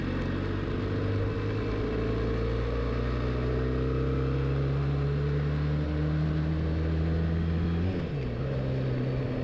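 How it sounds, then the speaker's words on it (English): A motorbike engine holds a steady, sluggish low drone at constant revs, slightly muffled and moderately loud, then its pitch dips briefly near the end. No one speaks. "The bike will sound sluggish, like it wants to change gears."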